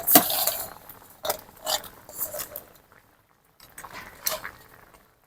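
Bori, eggplant and bitter gourd tipped into a cooking pot for sukto, a few close clattering bursts of utensils against the pot with short pauses between them.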